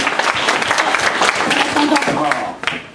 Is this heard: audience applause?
yes